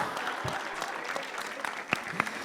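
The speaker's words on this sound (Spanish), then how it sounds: "Démosle un aplauso al amigo que se ganó la Pilsen." An audience at an evening science talk on quantum mechanics applauds, a dense, steady patter of many hands clapping at once, fairly close and sustained through the whole moment.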